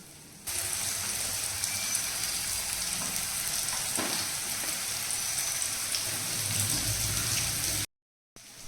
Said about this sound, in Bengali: বড় কড়াইটাতে বসিয়েছি তার মধ্যে তো উচ্ছে কুমড়ো ভাজা হচ্ছে